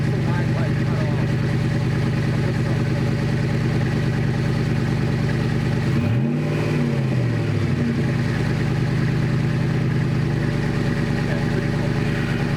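A HEMI engine swapped into a 1979 Jeep Wagoneer idles without a muffler, a steady, deep, throaty drone that rises in one brief blip partway through before settling back to a loud, even rumble.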